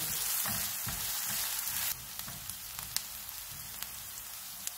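Steady, soft sizzling of a small onion frying in hot oil over low to medium heat, with faint crackles and a few small pops.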